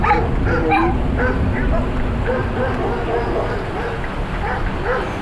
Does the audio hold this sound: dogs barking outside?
yes